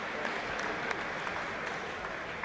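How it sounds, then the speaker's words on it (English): Steady crowd applause fills a boxing venue as a fighter is introduced to the ring, a continuous wash of many hands clapping from a distance. "Please give a big round of applause for Delroy Spencer."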